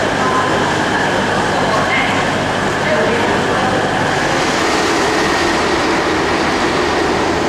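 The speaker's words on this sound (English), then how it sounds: "Here we are at Sheffield train station." A train rumbles loud and close at Sheffield train station, a dense continuous roar of wheels and carriages filling the platform with a constant rushing noise, with talk faintly mixed into it.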